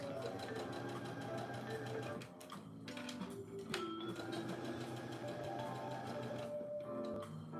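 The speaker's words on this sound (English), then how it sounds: "So I'm going to top stitch this at about 1/4 inch." A sewing machine top stitches a hoodie seam at a scant quarter inch, a steady rapid mechanical whirr running almost the whole time with a brief slowdown partway through, close and clear with no talking.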